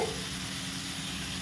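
Radish going into roasted spices in a hot pan for a pumpkin and radish curry, a soft steady sizzle and hiss, faint and unbroken, with no voices.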